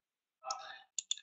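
Mouse clicks on a computer while choosing an option in a block-based programming editor, heard as a short burst followed by two quick, crisp, close clicks.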